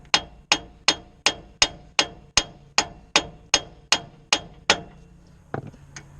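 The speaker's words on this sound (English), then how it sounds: "a few taps with a big hammer" A steady series of about a dozen sharp metallic blows from a big hammer on a Ford Fiesta Mk6 hub to free the track rod end ball joint, ringing briefly, then a softer clank and a final light tap.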